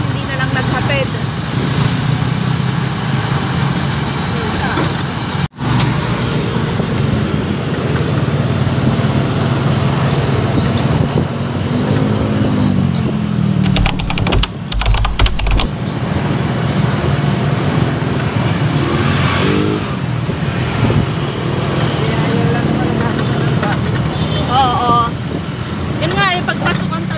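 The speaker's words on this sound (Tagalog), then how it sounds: "Pagpasukan talaga, sobra yung traffic eh." Busy morning road traffic around eight o'clock on a school day, a steady dense rumble of car and motorcycle engines with passing vehicles, continuous and fairly loud, with people talking over it.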